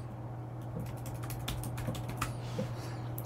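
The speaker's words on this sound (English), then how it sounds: "I'll type in a password that I want to use." Quick, light clicking of fingers typing a password on a computer keyboard, a short burst of close, faint keystrokes over a low background hum.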